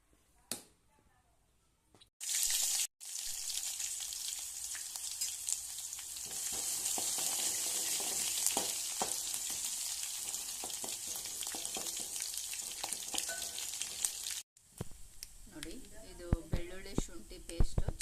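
Garlic, ginger, curry leaves, mustard seeds and cumin sizzle loudly in hot oil for a Kannada-style tempering, a steady crackling fry with popping seeds, preceded by brief quiet and clatter and followed by softer sounds and faint talk.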